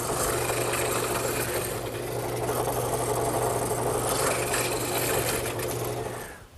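Mortise machine cutting an angled mortise into a wooden bench rail, a steady close mechanical whirr with a low motor hum that runs evenly, then fades at the end.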